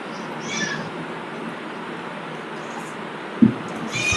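A cat near a family meal at home gives a few short, faint meows, one early and one at the end, over a quiet steady background hum.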